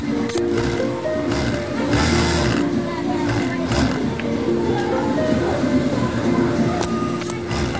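A Yamato cylinder bed industrial sewing machine stitching, used for chainsaw-type work, giving a steady mechanical whir with rhythmic clatter, close and continuous, with speech over it.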